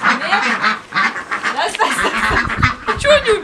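Geese honk loudly and close by in overlapping, repeated calls in a Ukrainian village, with people talking over the flock.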